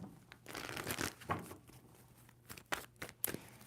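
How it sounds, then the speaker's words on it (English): A deck of tarot cards being shuffled by hand in a kitchen, giving soft, irregular papery riffles and slaps that come in several short bursts, close and fairly quiet. "2 more shuffles"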